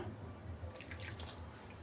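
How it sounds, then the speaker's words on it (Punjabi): Water is poured little by little into a bowl of flour for dough, a faint close dribble and soft wet patter with no voices. "ਹੁਣ ਆਪਾਂ ਥੋੜਾ ਥੋੜਾ ਪਾਣੀ ਪਾ ਕੇ"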